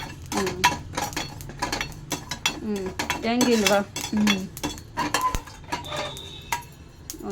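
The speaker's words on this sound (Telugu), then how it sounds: "మిరియాలు వేయించుకుంటా అండి" Black peppercorns roasting in a pan after cumin seeds, stirred with a metal spoon, producing close clinks, scrapes and rattling taps in quick irregular bursts.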